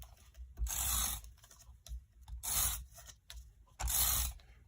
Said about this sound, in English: All right, my tape runner.